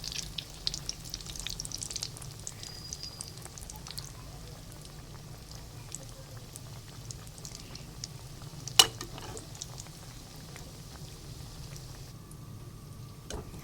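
Chicken and potato kebabs fry in hot oil, giving a steady, low crackling sizzle that runs throughout at moderate volume, with one sharp click near the end.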